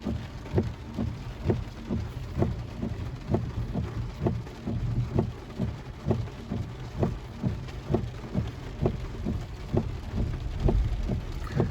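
Steady rain falls through the night during a food delivery run in Northlake, making a continuous wash with regular low thumps, heard close and moderately loud with no speech.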